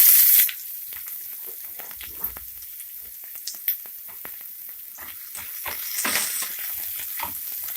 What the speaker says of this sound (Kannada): ಈರುಳ್ಳಿ 1-2 ನಿಮಿಷ ಫ್ರೈ ಮಾಡ್ಕೊಳ್ಳಿ.